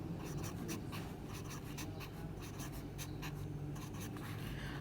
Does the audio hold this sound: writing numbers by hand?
yes